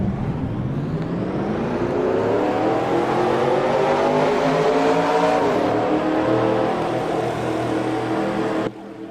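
Race car engines in a racing video game start up and rev together in a dense, loud, sustained roar, with pitch climbing steadily over several seconds before cutting off abruptly.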